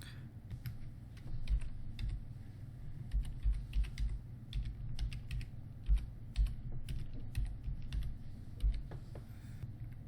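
Fingers type a stack name on a computer keyboard, a close run of quick irregular key clicks and taps over a low steady room hum, with no one speaking.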